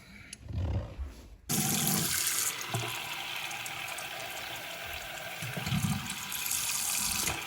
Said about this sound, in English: And now the sink fills and drains again.